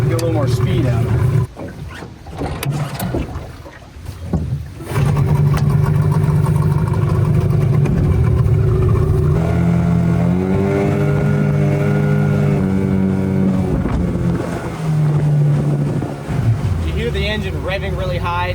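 A Yamaha outboard motor bought cheaply online runs loud and near on a boat, droning steadily and then climbing to a high, strained rev as the propeller cavitates, with talk over it.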